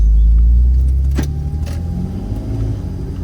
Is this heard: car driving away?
yes